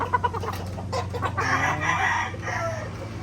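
A broodcock hen on a gamefowl farm clucks in a rapid, close series of short calls over a steady low hum, with other fowl faintly audible nearby.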